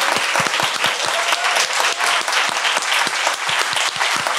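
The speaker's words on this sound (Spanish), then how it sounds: "Le damos un aplauso con mucho, mucho cariño." A room full of audience members gives a sustained, dense round of applause for Dr. Gerardo Castorena, steady and fairly close, with no talking over it.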